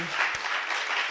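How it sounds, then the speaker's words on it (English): An audience at a law convention claps in a steady, dense burst of applause that fills the short moment and stays loud. "Another round of applause for Josephine."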